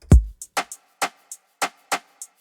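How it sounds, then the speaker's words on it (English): A shaker in an Afrobeats beat repeats a short pattern of crisp, airy hits at a steady groove, opening with one deep kick-like thump, dry and up close. "the first thing that I did here was I added a shaker"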